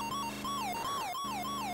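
Ambulance siren from the Atari game Turbo, a loud electronic wail sweeping up and down in repeated cycles over a constant buzzing engine drone, with no voices.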